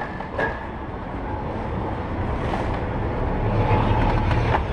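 Mail Rail underground train running through a tunnel beneath London's streets, a steady broadband rumble with faint rhythmic clatter throughout, close and continuous, no talking.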